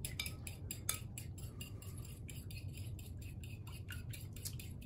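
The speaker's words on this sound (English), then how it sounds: "Stir egg white, egg, and salt in a small bowl." Egg white, whole egg and salt stirred in a small bowl, a fast run of light metallic clinks and scrapes from a utensil against the bowl, steady and close throughout.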